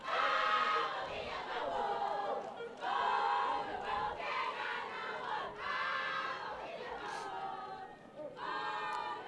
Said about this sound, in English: Mexican crowd getting behind the girls.